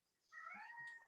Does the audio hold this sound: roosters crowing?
no